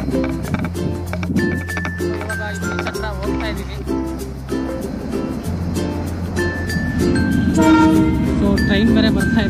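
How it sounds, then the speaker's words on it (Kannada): A train passes near Panambur beach in Mangalore, its rumble and clattering wheels close by and a horn sounding, while people talk over it. "ಸೊ ಟ್ರೈನ್ ಬೇರೆ ಬರ್ತಾ ಇದೆ."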